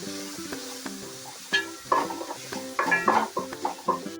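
Spice paste with chili powder, garam masala and ginger-garlic paste being stirred in a pan for vegetable dal korma, close clinking and scraping of a spoon against metal in quick uneven strokes over a light sizzle.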